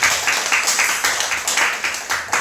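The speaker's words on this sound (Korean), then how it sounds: "우리 박수로 환영하고" A church congregation at a Sunday service claps in welcome, a steady rhythmic burst of applause fairly close and even in loudness.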